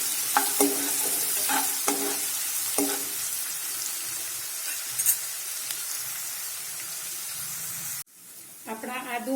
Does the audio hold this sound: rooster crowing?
no